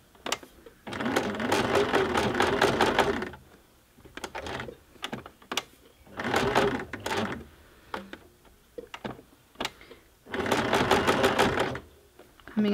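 A sewing machine stitches a woven Christmas ornament in three bursts of rapid, close stitching, with pauses between them filled by small clicks and handling taps.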